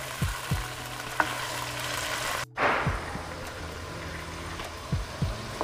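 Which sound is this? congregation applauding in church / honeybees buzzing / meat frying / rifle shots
meat frying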